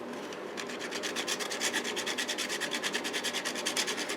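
A pencil or brush point is rubbed back and forth on a small piece of sandpaper to sharpen it, giving soft, quick, rhythmic scratchy strokes, close and quiet, with no talking.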